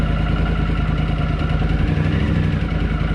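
A Honda CX500TC Turbo motorcycle engine idles in a garage, a loud, steady, close throbbing rumble with a fast even pulse and no pauses.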